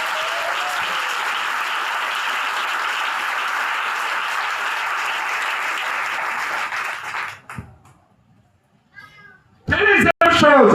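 A church congregation at an international missionary convention applauds and cheers loudly and steadily for about seven seconds, then the noise drops away, leaving near quiet before a voice and fresh crowd sound return at the end.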